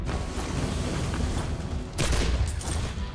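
Shotgun blasts in the video game Soulslinger, loud and booming, with a burst of firing, a brief lull, then another heavy blast near the two-second mark, over mechanical clatter.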